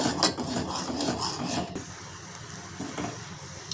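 A spoon scrapes and rubs against a pan of boiling jaggery and tamarind chutney, stirred steadily at first and then trailing off into a quieter simmer.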